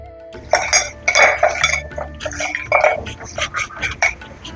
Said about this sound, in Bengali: এখন মাছগুলোতে নুন, হলুদ আর কাঁচা সর্ষের তেল মাখিয়ে নেব।